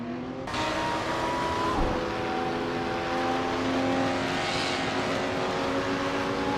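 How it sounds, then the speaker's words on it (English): A 2012 Mini Cooper Challenge race car drives on track, its engine droning steadily with rising and falling harmonic whine throughout, loud and close with no talk. "Dr. Felix is driving a 2012 Mini Cooper Challenge"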